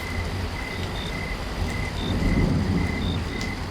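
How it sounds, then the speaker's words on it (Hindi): Cartoon rainstorm with steady broadband rain hiss, a low thunder rumble swelling near the middle, and crickets chirping in regular repeating bursts throughout, with no voices. "ये बारिश तो हमारी जान ले लेगी"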